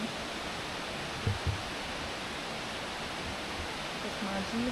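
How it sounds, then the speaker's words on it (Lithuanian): A waterfall on Madeira roars as a broad, even rush of water, continuous and moderately close, with a few brief voices and footsteps faintly over it. "Va, krioklys."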